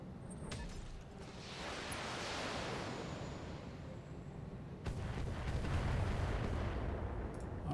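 Cannon fire in BattleTech mech combat, a distant rolling rumble of artillery-like booms and blasts that swells and then sharpens into a louder burst of shots near the end.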